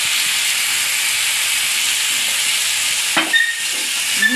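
Marinated chicken coated in cumin and coriander powder hisses steadily in hot masala, a loud, close sizzle with faint stirring scrapes near the end.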